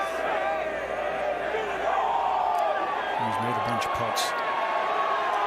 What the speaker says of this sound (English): allowing the crowd to go completely over the top of their voices